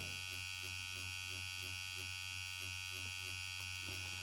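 A permanent makeup tattoo machine buzzes steadily as it deposits pigment quickly, a constant close electric whine with a faint pulsing rhythm and no pauses.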